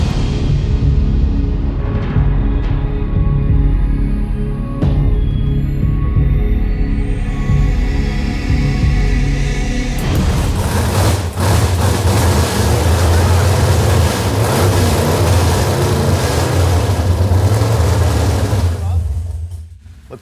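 A 1967 Camaro's freshly rebuilt engine runs loud and close, its rumble shifting and deepening midway as it is revved, with people talking over it.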